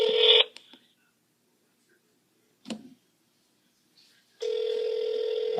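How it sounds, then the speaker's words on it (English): A telephone rings through a handset during a call, with two loud bursts of ringing at the start and end separated by near silence and a brief click in between. "It's ringing."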